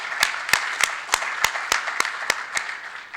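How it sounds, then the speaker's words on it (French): A single pair of hands clapping at a youth forum closing ceremony, about ten sharp evenly spaced claps, close and clear over a low murmur of room noise. "Sous vos applaudissements encore."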